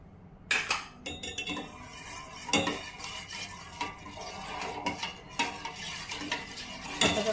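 A spoon stirs a mixture of sugar and agar powder in a pan for carrot beetroot coconut jelly, with repeated quiet scraping and clinking strokes against the metal.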